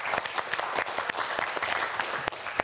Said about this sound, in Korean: 여러분, 우리 이건규 학생에게 큰 박수 보내주세요